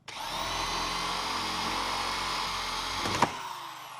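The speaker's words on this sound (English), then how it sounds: "press on it and just drill." A close power drill runs at a constant high whine for several seconds through a Toyota 86 front number plate mount, ending with a sharp clunk as it breaks through and stops.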